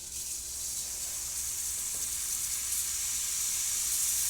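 Steam wand on a freshly serviced Breville Oracle Touch espresso machine hissing steadily, a bright continuous rush of steam that holds even and close for several seconds with no talking.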